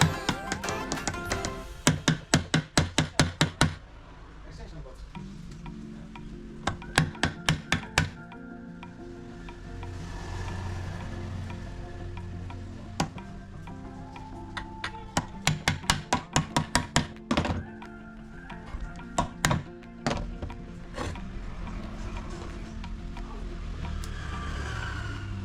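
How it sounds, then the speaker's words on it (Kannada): Repeated sharp knocks from a rubber hammer striking the crankshaft of an HTP pump during oil seal replacement, coming in quick bursts of several blows separated by pauses, close and loud over a low background hum. "ಈಗ ಕ್ರ್ಯಾಂಕ್ ಶಾಫ್ಟ್ಗೆ ಲಬ್ಬರ್ ಹ್ಯಾಮರಿಂದ ಬಡಿಬೇಕು."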